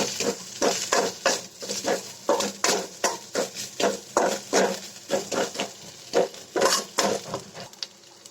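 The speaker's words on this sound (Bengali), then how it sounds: "পেঁয়াজ কুচিগুলো আমি ভেজে নিব ভেজে তারপরে এর মধ্যে আমি একটু অল্প করে আদা দিয়ে দিব" Chopped onions with a little ginger frying in a pan for a potato and pointed gourd curry, a steady run of close stirring scrapes and clinks over a low sizzle, no talking.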